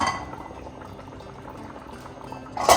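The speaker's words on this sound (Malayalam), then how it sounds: "ഇതാ നല്ലോണം തിളക്കണം." Fish curry simmering in a pot, a steady low bubbling boil throughout, ending in a louder burst of sizzle or a clink of a utensil near the pot.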